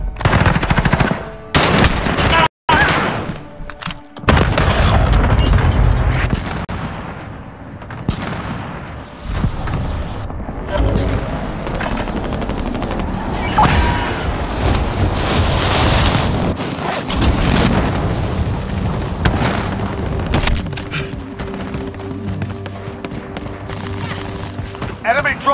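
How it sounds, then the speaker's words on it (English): Call of Duty: Warzone combat plays out with a cluster strike's heavy rolling blasts among rapid machine-gun bursts and wind noise, loud and continuous, with game voices calling out over the barrage. "Allied cluster strike inbound."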